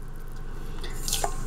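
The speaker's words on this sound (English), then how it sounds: "So you need 1 1/4 cups of very warm water" Very warm water pours into a metal bowl for bread dough, giving a short, close trickle with a couple of bright drips and splashes over a steady background hum.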